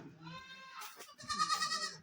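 Beetal goat kids about 15 to 20 days old bleat close by on a goat farm, two high, quavering cries with a brief pause between them, each clear and loud.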